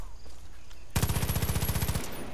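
A rapid burst of automatic gunfire from an inaccurate DLC gun in a video game, fired at a badger. Silence comes first, then the loud, evenly spaced shots run for over a second before cutting off.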